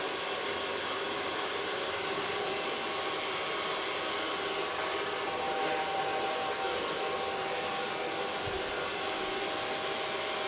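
A hand-held hair dryer blows steadily on a short pixie haircut in a salon, a constant loud, close rushing hiss with no break and no talk.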